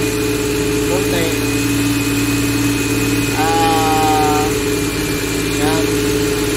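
A motorcycle engine with hard starting and low power idles steadily up close, its revs rising slightly a few times as the air is adjusted, with brief whistling tones over the drone.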